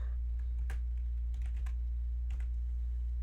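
A computer keyboard is typed on while entering a chord symbol in Sibelius 7 music notation software: a few light, scattered key clicks sound close by over a steady low hum, with no talking.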